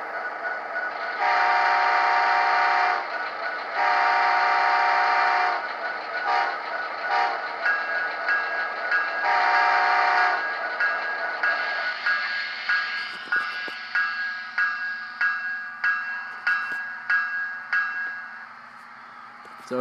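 A model diesel locomotive's sound decoder, from an Athearn Gevo or Proto 2000 SD60 project, sounds its horn in several long blasts, then repeated short toots over a steady engine hum, fairly close and clear without talking.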